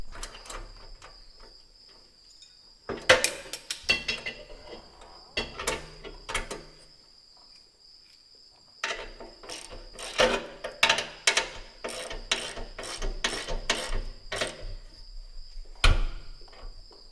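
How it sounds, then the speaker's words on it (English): A ratchet wrench turns a bolt near the battery box of a wrecked Peterbilt 379 truck, giving bursts of sharp, rapid clicks with pauses between them, busiest in the second half. "I might have to use a ratchet."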